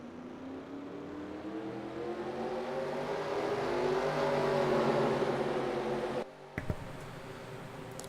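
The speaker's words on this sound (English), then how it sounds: "Drivers, start your engines." Race car engines in a racing video game fire up and rev together at the Pensacola road course, a building whirring drone that swells and climbs before cutting off sharply, followed by a short burst of noise.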